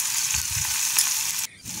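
Chopped tomatoes fry in hot oil in a pan, giving a loud, steady close sizzle that breaks off briefly near the end and then comes back.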